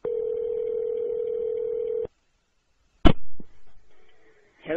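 A telephone rings with one long steady electronic tone lasting about two seconds. After a pause comes a sharp click like a receiver being picked up, then faint handling noise and a short burst of sound at the end.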